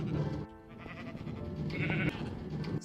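Sheep bleat in a Minecraft wool farm, with several quiet, overlapping bleats over a steady background hum and no talking.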